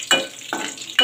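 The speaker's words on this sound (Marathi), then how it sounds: "आता ही लसूण आणि कढीपत्ता चांगला तेलामध्ये" Garlic and curry leaves sizzle in hot oil as a tempering for Malvani tomato saar, with three quick, close stirring scrapes against the pan over a steady fry.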